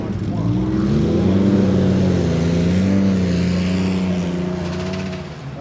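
A loud, deep Porsche GT1 race car engine drone with a slowly shifting pitch, sustained throughout and easing slightly near the end; no voices stand out.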